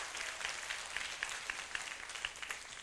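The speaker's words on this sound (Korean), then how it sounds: "박수 한번 해주시기 바랍니다." A church congregation claps during a Sunday afternoon service, a faint, fairly rhythmic patter of hands heard from a distance with no voices over it.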